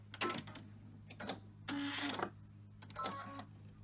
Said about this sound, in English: So using our edge sewing guide along with that feature on our machine, it's kept a straight stitch at 1/4 of an inch seam allowance all the way along